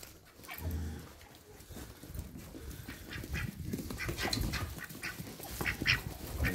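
Ducks and other farm animals on a farm in extreme cold, with scattered quacks and calls over a steady outdoor din, close and moderately loud.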